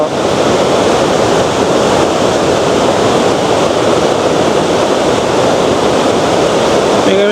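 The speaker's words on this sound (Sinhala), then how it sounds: "මේක තමයි දියැල්ල" A wide, not very tall waterfall spanning a broad river near a bridge in Japan, roaring as a loud, continuous rush of falling water that stays steady throughout with no breaks.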